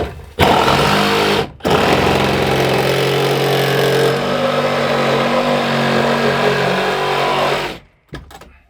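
A power tool cuts an opening in drywall for an HVAC duct, running loud and steady for about seven seconds, starting and stopping with brief pauses, with no talk over it.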